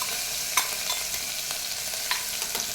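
A paste of ginger, garlic, curry leaves and coriander sizzles in a hot pan, giving a soft continuous hiss broken by a few light spoon scrapes, close but fairly quiet.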